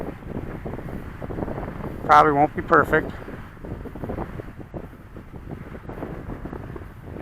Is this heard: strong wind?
yes